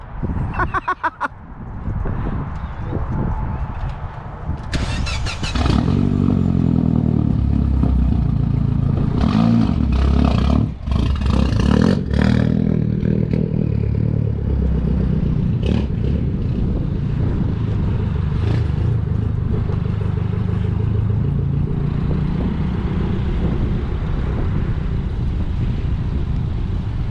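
A Mini's small engine runs steadily while driving, a close continuous low hum with some clattering and brief revs near the start.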